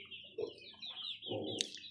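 Rhode Island and Black Australorp crossbreed chickens cluck and murmur softly at a farm, a few brief throaty calls close by over quiet background.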